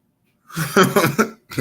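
A short burst of several raspy coughs close up, followed by one more quick cough after a brief gap.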